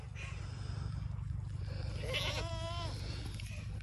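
Goats bleat at breakfast on a farm, a few wavering calls from one or two animals over a steady low background hum, fairly close, with a person calling to them nearby.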